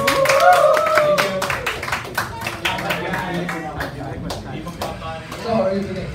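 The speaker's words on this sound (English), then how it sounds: "a round of applause, please?" A small audience gives a round of applause, sparse distinct handclaps that thin out over several seconds, with voices talking over them.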